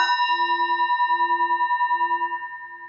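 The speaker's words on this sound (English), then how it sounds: "The sound of the temple bell booms for all to cease from conflict" A single temple bell struck at a Buddhist service rings out loud and close, its bright metallic tone sustaining with a pulsing shimmer and slowly fading over three seconds, with no voices.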